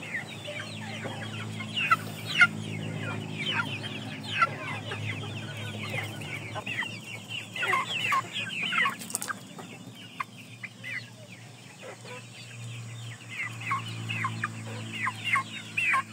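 Indio Gigante chickens and a rooster clucking close by, with repeated bursts of clucks and calls over a low steady hum.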